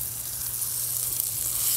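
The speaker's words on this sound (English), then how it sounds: "So we're gonna let them sear nicely first." Chicken breasts searing in a hot pan for lemon pepper chicken give a steady, even sizzle that holds close and constant, with a low hum underneath.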